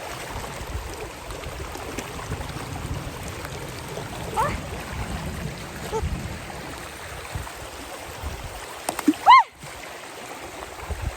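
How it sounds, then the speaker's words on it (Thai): A strongly flowing stream, swollen after rain, rushes in a steady broadband wash. Brief splashes stand out near the end. "แต่น้ำไหลแรงมากออกจะข้ามไปได้ไหม"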